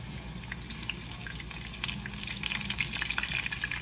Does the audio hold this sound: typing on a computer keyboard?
no